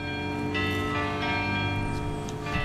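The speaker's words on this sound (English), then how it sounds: "Archers competing on the ranges through the weekend were regularly serenaded by ringing bells from the Abbey Church's belfry." Bells ring from the Abbey Church belfry at an archery competition in Cullman, Alabama, a sustained, layered ringing tone that fills the clip at a steady level.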